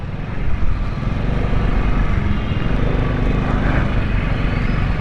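Motorcycle engine turning back near a muddy underpass in extreme cold, a steady loud close engine drone with a continuous broadband rumble throughout.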